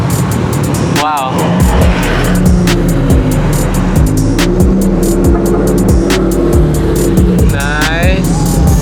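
A group of Subaru cars accelerating hard as they roll out past, engines droning loudly and steadily nearby, with a person talking over the noise.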